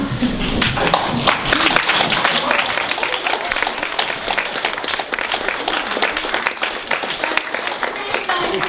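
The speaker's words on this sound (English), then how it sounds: "I think you all deserve a round of applause." An audience of business members at an aviation accreditation event gives dense, sustained applause that stays loud and even throughout, with some voices mixed in.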